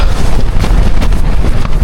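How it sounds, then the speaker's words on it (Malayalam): Strong wind roars and buffets steadily outdoors in Mongolia with dense rumbling gusts, loud and close with no voices. "ഭയങ്കര കാറ്റ് പുറത്ത് ഉണ്ട്"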